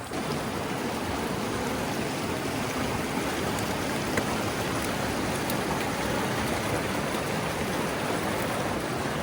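Steady rushing water of a Colorado wilderness stream flowing over rocks, a continuous broadband wash with no voices.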